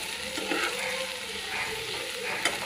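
Drumstick and milk curry bubbling in a pan while it is stirred, a dense continuous sizzle with soft scraping swells and no talk.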